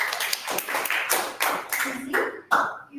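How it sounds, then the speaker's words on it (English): Audience applause for a participant on a stage event, a short burst of clapping from a small group, close and uneven, with a few separate claps standing out as it fades. "ladies and gentlemen, let's give a round of applause for Quincy"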